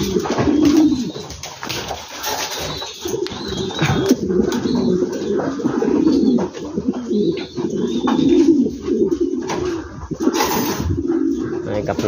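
Dutch king pigeons coo in a loft with repeated low, throaty rolling calls overlapping continuously, close and steady, with faint background chatter.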